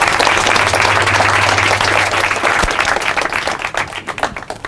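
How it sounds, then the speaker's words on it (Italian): Lecture-hall audience gives a warm round of applause welcoming a speaker in an amphitheatre, dense and loud at first, then thinning into scattered claps as it fades. "e do il benvenuto a David e diamogli un ultimo un applauso"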